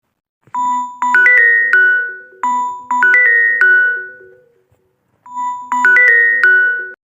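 A phone ringtone plays a bright chiming melody three times, loud and close, with short pauses between rings.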